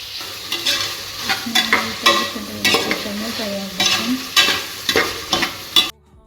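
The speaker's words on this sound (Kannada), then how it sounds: "ಜೊತೆಲ್ಲ ತರಕಾರಿಯನ್ನು ಸ್ವಲ್ಪ ಫ್ರೈ ಮಾಡಬೇಕು ನೀಟಾಗಿ ಸ್ವಲ್ಪ ಫ್ರೈ ಮಾಡ್ಕೊಂಡಂಗೆ" Vegetables frying in a pan for veg pulao, a close sizzle with a regular series of stirring scrapes and clacks, ending abruptly in silence.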